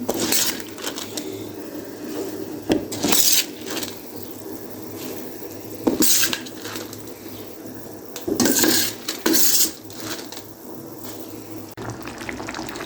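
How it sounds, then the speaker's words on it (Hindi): Rice pours into a pot of boiling water for matar pulao with clattering bursts of metal against metal, scraping and stirring, then quieter bubbling and kitchen noise. "अभी हम इसमें चावल ऐड कर देते हैं।"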